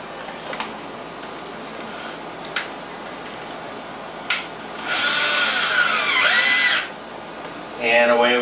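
A power drill drives screws into an ozone generator, with a close, loud whirring run of about two seconds and another burst starting at the end, preceded by a few light clicks.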